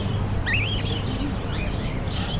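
A few small lovebird chirps and short warbling tweets rise over a steady low background hum, fairly faint and spaced apart.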